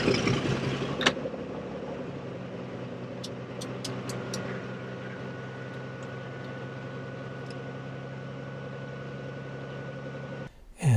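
A Cirrus SR22T aircraft engine cranks in a hot start, with a steady, even mechanical hum and a few light ticks, then a loud burst at the end as it catches.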